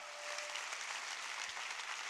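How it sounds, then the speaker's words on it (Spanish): Church congregation applauding during a sermon, a dense, continuous wash of clapping heard at a distance and fairly faint, steady throughout without any voices rising above it. "Dale más fuerte ese aplauso al Rey, por favor."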